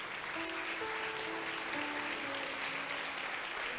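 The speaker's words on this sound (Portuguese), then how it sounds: "desocupe as suas mãos e aplauda o nome do Senhor Jesus" Congregation applauding during an online church service, a dense, steady wash of clapping throughout with a few sustained tones underneath.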